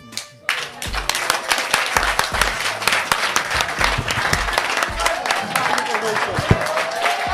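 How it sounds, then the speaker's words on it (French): Loud, dense standing ovation from a seminar audience on youth employability, rapid clapping swelling in after a brief quiet start and continuing strongly, with a faint rising tone late on. "Il faut l'applaudir très, très, très, très fort."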